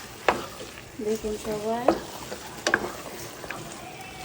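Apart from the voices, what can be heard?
onion frying in a pan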